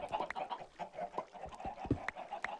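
Chickens in Minecraft cluck in a soft, rapid, irregular series of short calls mixed with faint clicks and taps from the game, quiet and continuous with no speech.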